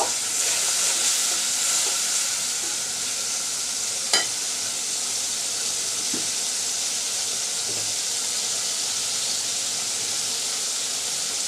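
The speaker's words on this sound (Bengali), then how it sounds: "আমি কিছু ছোট চিংড়ি মাছ দিয়ে দিচ্ছি তেলের মধ্যে একটু পেঁয়াজ রসুনের সাথে ভেজে নিব" Small shrimp frying in oil with onion and garlic give off a steady, even sizzle and hiss throughout, with one brief clink of a utensil partway through.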